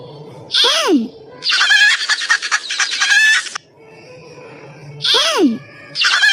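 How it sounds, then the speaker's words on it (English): A hen clucks in a fast, choppy burst of repeated clucks, close and loud, with brief voiced sounds before and after it. "Hen."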